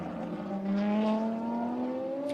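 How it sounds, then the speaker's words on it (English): Ferrari FXX race car with a former Formula One engine at the Circuit of the Americas, a distant high-pitched engine note climbing steadily in pitch as it accelerates, heard faintly. "That's the sound of a former Formula One engine that has been manipulated and perfected"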